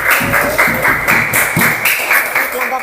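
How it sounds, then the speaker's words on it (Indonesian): A classroom bursts into brisk group applause for the first group, a dense run of hand claps close by, with voices talking over it. "Beri tepuk tangan buat kelompok 1."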